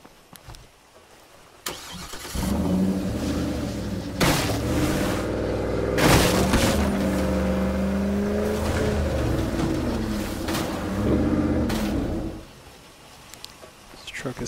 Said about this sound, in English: Truck is so loud.